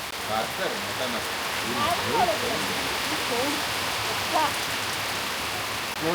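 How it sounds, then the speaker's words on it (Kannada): Heavy rain pours down in a steady dense hiss, with birds chirping faintly through the downpour. "ಮಳೆ ನೋಡಿ ಏನು ಜೋರು ಹೊಡಿತೈತೆ"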